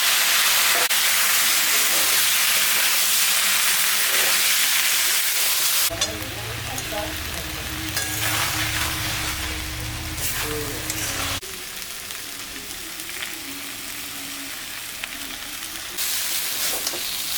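A paste of ginger, cumin and chili fries in a pan with a loud, close sizzle that drops to a softer hiss as it is stirred, with scraping of a spatula.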